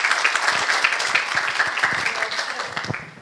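An audience claps for the speaker after an autism lecture held at a municipal chamber, a steady crowded patter of many hands lasting the whole stretch, fairly close and dense with faint murmuring underneath.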